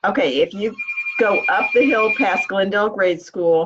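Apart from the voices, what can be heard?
phone ringing bell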